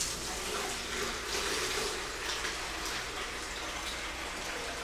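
Hot water runs from a tap into a gallon container for a sugar syrup mixer, a steady, fairly faint rushing and splashing stream that continues unbroken throughout.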